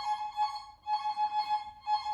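A violin mimics an old telephone ring, playing rapid trilling bursts in two or three repeated rings separated by short gaps, close and clear.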